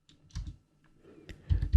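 Short bursts of typing on a computer keyboard while entering an SSH login command, a few quick clusters of key clicks with brief pauses between them, close and clear.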